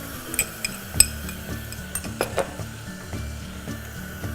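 Chopped tomatoes hit a hot pan of softened onions for ridge gourd chana dal, giving a steady soft sizzle with a spoon stirring, scraping and clinking against the pan in irregular strokes.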